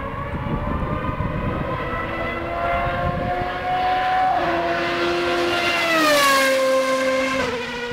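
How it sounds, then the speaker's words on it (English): Honda HSV-010 Super GT race car engine wailing at high revs, its pitch sweeping up and down through gear changes, loud and steady with no talk over it. "The noise that this car makes is something else, especially when compared to its more conventional rivals"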